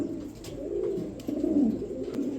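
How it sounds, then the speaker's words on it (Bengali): A pair of stretcher pigeons, kept as racers, coo softly and close by in low, rolling calls repeated over a quiet background. "একদম সুপার কোয়ালিটি একজোড়া স্ট্রেচার কবুতর"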